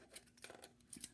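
Small scissors snip a length of beading thread in a quick, very faint cut made up of a few soft, crisp clicks close by.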